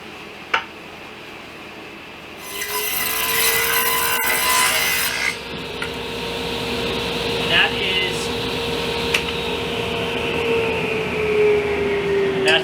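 A power tool cuts a 1/4 inch groove in a wood panel for a storage bench, giving a loud burst of grinding, rasping cutting, followed by a steady motor hum with faint scrapes.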